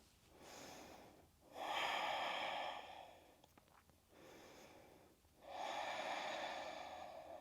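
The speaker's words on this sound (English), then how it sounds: "Let's take 3 more deep breaths wherever you are." Slow, deep breaths during a yoga heart-opening flow. Two long, loud inhales and exhales sound close to the microphone, with airy rushing and soft pauses between them.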